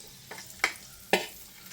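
Jackfruit payasam (chakka pradhaman) is stirred in a pan, giving three brief scraping strokes spaced about half a second apart, the later two louder and sharper, with a faint sizzle between them.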